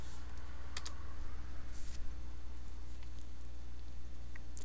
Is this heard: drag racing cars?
no